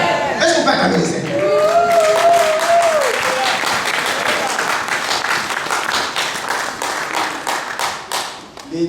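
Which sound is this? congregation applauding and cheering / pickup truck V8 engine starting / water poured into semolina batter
congregation applauding and cheering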